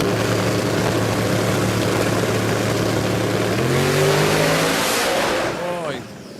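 An XE Falcon drag car roars loudly at close range as it launches down the strip, a steady heavy engine drone climbing into rising revs before dropping away near the end; some speech may be mixed in.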